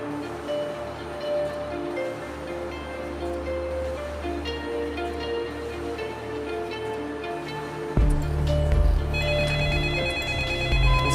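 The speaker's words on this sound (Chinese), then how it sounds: "你自己弄啊，我去接个电话。" A telephone rings in an old school room: repeated electronic ringtone tones play alone with no talk, growing louder and fuller near the end.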